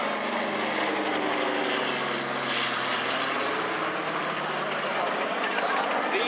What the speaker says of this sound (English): if you look up and look carefully as the aircraft overflies